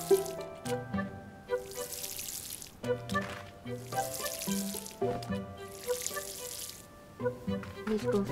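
A watering container filling with water in the video game Paleo Pines, repeated short bursts of running tap water over steady background music.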